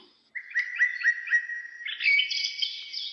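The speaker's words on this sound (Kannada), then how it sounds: "ಗುಬ್ಬಿ ನೋಡಿ ಎಷ್ಟು ಸುಂದರವಾಗಿದೆ." A sparrow chirps among colourful flowers, a quick run of bright, close tweets followed by a denser, higher trill, with no voices.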